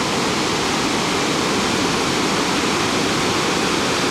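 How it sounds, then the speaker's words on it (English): A large waterfall fed by snowmelt in Norway roars in a loud, unbroken rush of water, steady throughout with no other sounds. "As you can hear, there's quite a large waterfall here."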